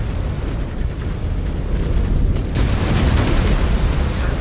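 A giant combat mech blows apart in MechWarrior 5: Clans, a sustained heavy booming roar that swells louder partway through, standing alone with no voices.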